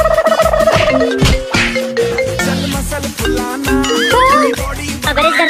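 A phone ringtone plays in a home, a loud electronic melody with tonal notes and rising warbling chirps that continue steadily for several seconds without talk.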